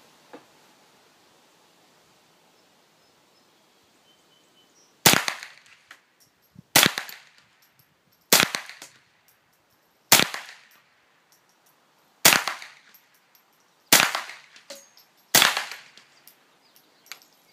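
A JW-14 rifle fired seven times outdoors, loud sharp cracks spaced about every one and a half seconds, each with a brief ringing tail over quiet surroundings.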